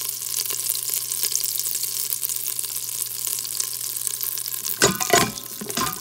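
A tablespoon of butter melting in a pot for Southern black-eyed peas makes a continuous bright sizzle, close and fairly loud, joined near the end by a brief burst of scraping and clatter.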